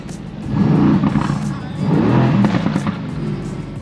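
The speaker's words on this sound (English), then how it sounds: "We'll do a little baby rev here in the parking lot, and you can hear it pop." A 2018 Mercedes-AMG GT V8 is revved gently in a parking lot: two rising engine swells with faint crackles and pops, heard close and fairly loud.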